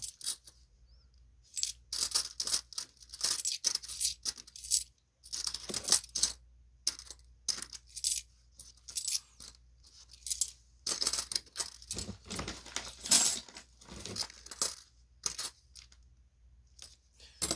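Coins from a bank coin roll clink and rattle against each other in repeated bursts of bright metallic jingling, close and clear, with short pauses between handfuls and no talking.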